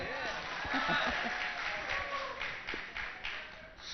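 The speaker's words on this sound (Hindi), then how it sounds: "वाह, तालियां हो जाए" Audience applause for a singer at a small gathering, a few seconds of moderately close clapping from a group, uneven in rhythm, with some voices and crowd noise mixed in.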